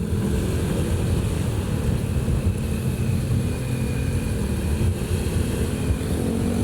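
A motorcycle travels along an alternative route from Pangandaran beach to Garut, producing a steady, close engine drone with wind rush that holds constant throughout, with no speech.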